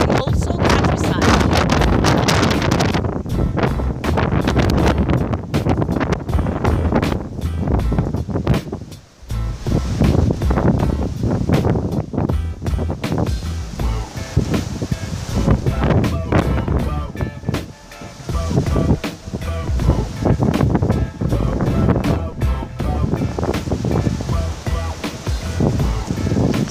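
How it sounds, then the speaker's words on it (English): Strong wind roars and buffets the microphone in heavy low gusts, easing briefly, then surging back, on a rainy winter coast at Pichilemu, Chile. "Has been raining for the, I don't know, for 2 hours, and it's very windy"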